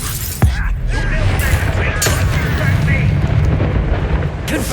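A Confringo fire spell blast in Hogwarts Legacy erupts with a sharp crack followed by a loud, sustained roaring rumble of battle noise, with brief bright impacts scattered through it.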